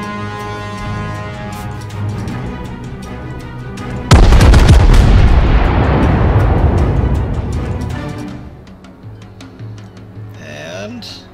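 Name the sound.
naval gunfire from warships in a video game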